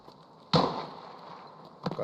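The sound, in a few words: gunshots in the video game Escape from Tarkov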